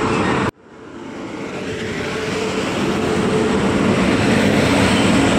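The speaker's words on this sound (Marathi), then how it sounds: "आपली ट्रेन आलेली आहे" An express train arriving at a platform at Ratnagiri station rumbles steadily after a brief silence, its broadband roar building gradually and staying loud throughout, close by with no voices.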